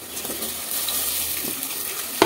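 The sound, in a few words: onions frying for chicken curry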